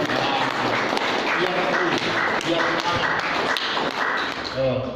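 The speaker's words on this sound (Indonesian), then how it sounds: "Tepuk tangan dulu" An audience clapping hands at a health talk: loud, busy clapping from many people with sharp individual claps audible, continuous throughout with faint voices mixed in.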